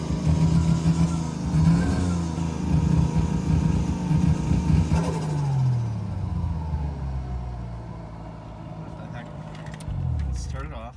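A Toyota 1JZ engine in an FC RX7 drift car, which has a running fault, is held at full throttle. It drones loud and steady, then the revs sag and drop off toward the end, with a brief blip near the finish. People talk over it.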